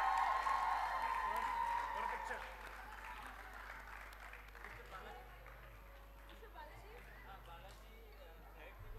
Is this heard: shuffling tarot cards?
no